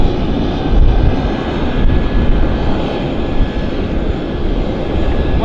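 A WestJet airliner's jet engines roar steadily and loudly at Vancouver airport, a dense, continuous rumble held close throughout without any break.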